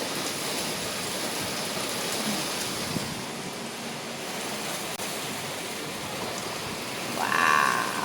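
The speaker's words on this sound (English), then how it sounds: "Storming again," Steady rain pours down during a thunderstorm over a home garden, a continuous hiss throughout with a brief louder swell near the end.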